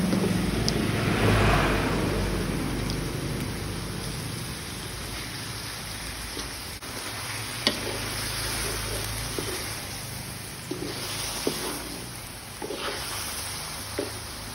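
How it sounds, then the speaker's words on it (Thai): Squid stir-fries in a pan with no added water, giving a dense, rain-like sizzle with occasional sharp clacks of a utensil against the pan, loudest early and then steady. "เดี๋ยวเราผัดไปสักพักก็เดี๋ยวน้ำปลาหมึกก็จะออกจ้ะ"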